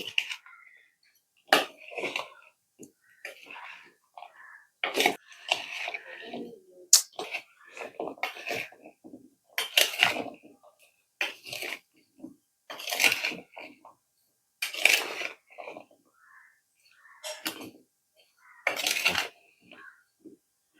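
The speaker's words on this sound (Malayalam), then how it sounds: "നമുക്ക് പതുക്കെ ഒന്ന് ഇളക്കാം" A mango pickle mixture with turmeric powder is stirred slowly in a vessel, giving repeated irregular scraping and clinking strokes with quiet pauses between them, close and fairly soft.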